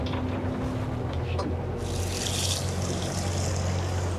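Center console boat engines idle steadily at a harbor fuel dock, a low continuous rumble with water splashing and a brighter hiss joining partway through.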